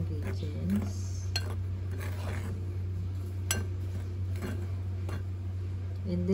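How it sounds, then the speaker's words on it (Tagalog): Dry ingredients for a moringa pancake batter are stirred in a bowl, giving light clinks and taps of a utensil against the dish over a steady low hum. "Mix lang natin muna yung dry ingredients."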